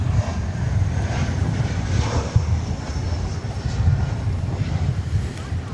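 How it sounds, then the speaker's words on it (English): An airplane at DFW Airport flies through gusty wind, giving a steady low engine rumble with a buffeting roar that swells and fades, heard at a moderate distance. "Let's see how this aircraft deals with the gusty winds"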